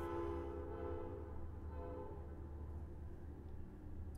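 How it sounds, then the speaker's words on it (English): A train passes near a mountain area, its heavy rumble and horn-like tone loud and steady, then slowly fading, with no talking. "Hi, train."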